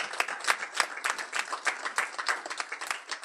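A church congregation claps together, producing a dense patter of many hands with rhythmic swells, fairly close and lively, with no clear speech.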